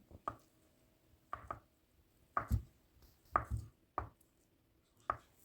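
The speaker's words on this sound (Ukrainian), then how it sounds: "нарізаю на невеликі довільні кубики" A knife cuts boiled vegetables into small cubes on a cutting board in slow, evenly spaced chops, six or seven crisp thuds with quiet gaps between them.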